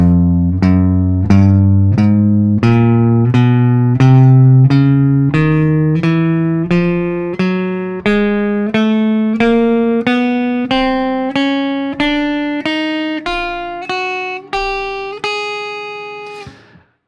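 Guitar alternate picking exercise played evenly in time: a steady stream of about twenty picked single notes climbing gradually in pitch, each note ringing briefly, close and unaccompanied.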